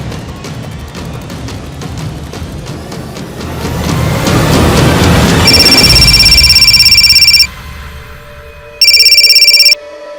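After a swelling rush of noise, a bright electronic phone ring sounds loudly, stops, then rings again in a second short burst.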